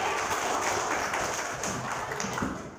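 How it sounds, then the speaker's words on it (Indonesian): Dense, steady clapping from a group, a continuous wash of hand claps that tapers slightly toward the end. "Tepuk tangan sekali lagi."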